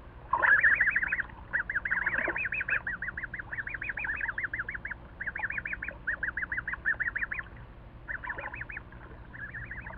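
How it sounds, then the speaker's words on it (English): Young Canada goose goslings peep in rapid, repeated high chirping bursts, clear and close, calling almost continuously with short pauses and no talk over them. "The Canada goslings now make their noisy debut."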